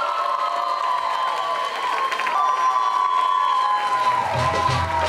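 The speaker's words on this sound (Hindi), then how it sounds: "जोरदार बजाइए तालियां" An audience at a girls' college anniversary event in Jaipur applauds and cheers a dance performance by young girls, with loud sustained clapping and shouts over a faint musical tone.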